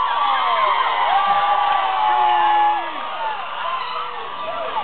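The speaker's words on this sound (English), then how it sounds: "You can cheer for that if that makes you feel good about yourself." A theater audience at a comedy show cheers and whoops loudly in a dense, sustained roar of many voices that eases slightly toward the end.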